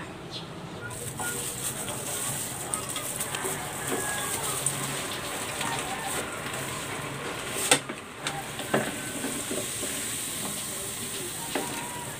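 Mashed potato balls frying in hot oil, a steady close crackling sizzle with a few sharper pops, no voices.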